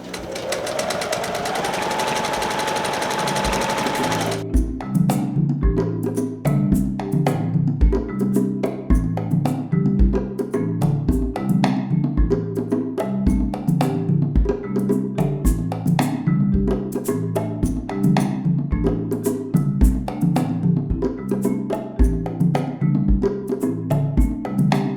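A sewing machine stitches a seam with a little reverse stitching, running steadily for about twenty seconds in a fast, even mechanical rhythm after a brief whining start, close and loud.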